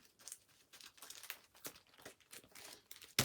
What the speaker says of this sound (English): I tried to shuffle that quite thoroughly.